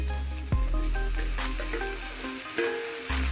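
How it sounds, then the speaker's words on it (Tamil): Chopped tomatoes tipped into a pan of sautéing onions for tomato chutney, setting off a sudden burst of sizzling frying with scattered stirring clicks, close and steady. "இப்போ நான் இதில் கட் பண்ணி வச்சிருக்கிற தக்காளியை சேர்த்துக்கிறேன்."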